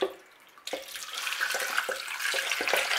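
Tepid tap water runs from a faucet into a container, starting abruptly after a moment of quiet and building into a steady close hiss and splash with small gurgling pulses.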